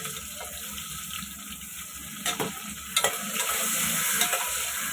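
Onion frying in a pan gives a steady, close sizzle with a constant hiss throughout, broken by a few brief stirring scrapes and clinks near the middle and a slight swell toward the end.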